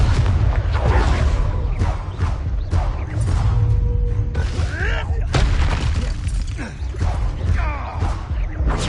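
Booming blasting-spell explosions from the Hogwarts Legacy video game ring out in rapid succession, loud and dense over a heavy low rumble, mixed with shouted spell incantations and combat clatter.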